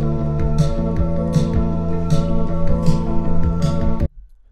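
A lo-fi song outro, played through speakers and re-recorded with a microphone, has a steady tonal bed with regular soft percussive hits and a slightly boxy, roomy character, ending abruptly after about four seconds.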